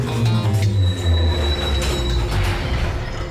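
A train runs on rails with a loud, steady rumble of wheels and carriages, a thin high metallic squeal sustained over the top, close and continuous.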